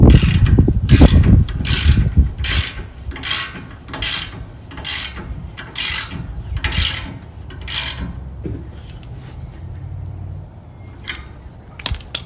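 A hand ratchet snugs up a bolt on a D-ring shackle bracket fitted to a 2021 Toyota Tacoma SR5 Trail Edition, giving about a dozen rapid, sharp clicking strokes in an even rhythm, loud and close with no talk.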